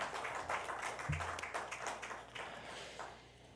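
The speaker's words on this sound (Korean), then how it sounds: "우리 박수로 함께 격려하고 축복하도록 하겠습니다" Church congregation clapping together in encouragement during a worship service, a fairly faint patter of many hands with loose rhythmic bursts that gradually thins out toward the end.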